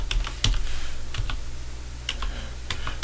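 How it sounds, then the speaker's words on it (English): Rapid clicks of typing on a computer keyboard while entering network interface commands, close and steady with a few sharper keystrokes, no one speaking. "And we're going to type in"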